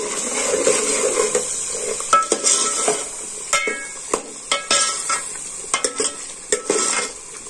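A spoon stirs chicken and potatoes frying in hot ghee in a pan, with a steady sizzle broken by repeated scraping clinks of the spoon against the metal, close and fairly loud, with no talking.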